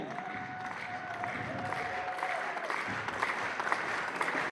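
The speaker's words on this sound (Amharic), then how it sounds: "ጭብጨባ ያንሳል።" Sustained applause from a large crowd at an Aksum University graduation ceremony, a dense, steady clapping that fills the whole stretch with a faint murmur of voices beneath.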